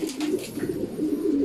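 Racing pigeon cooing close by on arrival at the loft after a 173 km training toss from Tagkawayan, Quezon, a steady low murmuring coo running through the whole moment with faint background noise.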